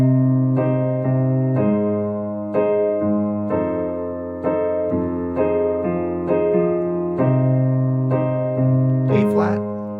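Piano playing slow, brooding chords, each sustained chord struck in a steady rhythm and ringing out clearly, close and alone.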